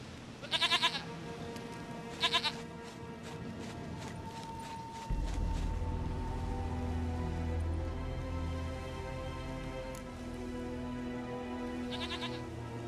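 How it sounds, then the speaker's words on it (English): A goat in The Witcher 3 video game bleats in two short loud bursts near the start and once faintly later, over a low steady ambient drone with no talk. "Goat of mine, dearest, sweetest goat."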